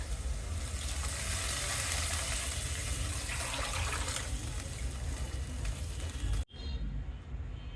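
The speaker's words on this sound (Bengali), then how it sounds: "এখন আমি এর ভিতরে দিয়ে দিচ্ছি চিকেন স্টক।" Homemade chicken stock pours into a pan of frying golden onions, making a loud, steady rush of liquid hiss and sizzle. It drops off abruptly near the end, then a quieter sizzle continues. Close, with no talking.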